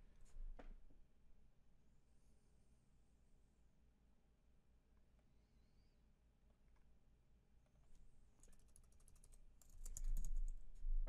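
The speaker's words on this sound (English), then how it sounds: "You'll type in CPU speed." Quiet bursts of typing on a computer keyboard sound close by in an office setting, light and irregular at first and then a denser flurry of keystrokes near the end.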